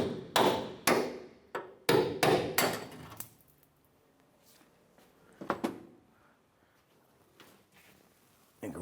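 A hammer strikes a punch to drive out drilled rivets on a 1993-1997 Ford Ranger rear shock mount bracket: a quick burst of about seven sharp, loud metallic blows, then a pause and a couple more taps.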